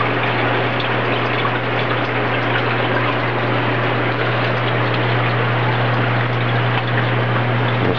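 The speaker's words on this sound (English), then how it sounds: "The water just keeps on running right down here." Water runs steadily through a homemade eight-bucket aeroponics system, a constant loud gush and spray mixed with a low, even pump hum, unchanging throughout.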